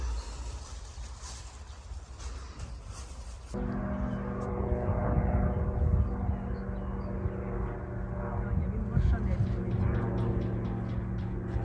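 A hang glider or drone flies overhead while mother and daughter tidy up blossom-covered graves on a Ukrainian Heroes' Alley: a steady droning hum with strong sustained tones swells in after a few seconds and holds, with faint voices underneath.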